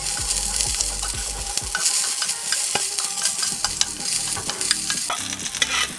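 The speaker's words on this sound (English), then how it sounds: "Then fry 4 green pepper to the fry pan with soybean oil." Green peppers frying in soybean oil in a pan, steady close sizzling with repeated scraping and stirring strokes throughout.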